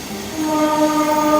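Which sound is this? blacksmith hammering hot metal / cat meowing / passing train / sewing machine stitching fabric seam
passing train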